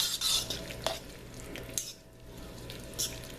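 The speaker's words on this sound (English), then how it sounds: "So mix that up really good" A utensil stirs a raw topping of tomato, basil, garlic and olive oil in a bowl, making soft wet scrapes and a few light clinks against the side, close and quiet.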